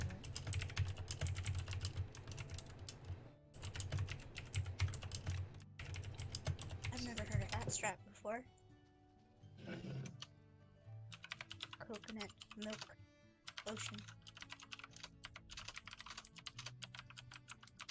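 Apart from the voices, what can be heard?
typing on a loud mechanical keyboard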